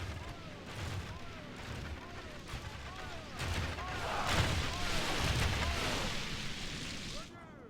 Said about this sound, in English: That's like a machine gun fire.